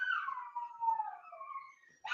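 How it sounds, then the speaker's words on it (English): A dog nearby gives a long, wavering howl that slides downward and fades, then a fresh yelp-like cry cuts in at the end, with no other sound around it. "Hold on, loud dogs."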